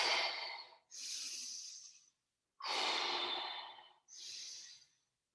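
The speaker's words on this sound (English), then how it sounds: "Breathe in and breathe out." Deep breaths in and out during an exercise session, four long, close, airy breaths in a slow, even rhythm with short pauses between them and no talking.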